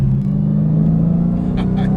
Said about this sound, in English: I just really do love the feel and the sound of these roots blowers.